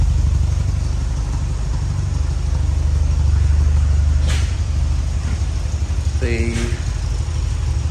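A Porsche 924 2.0 automatic engine runs steadily with a deep, continuous exhaust rumble, close by, with a couple of brief higher squeaks.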